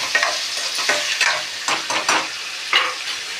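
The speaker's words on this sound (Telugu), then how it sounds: "టమాటా మగ్గుతుంది, ఉల్లిపాయ వేగుతాయి" Tomatoes and onions fry together in a pan, a loud close crackling sizzle broken by repeated scraping strokes of a spoon as the mixture is stirred, no talking.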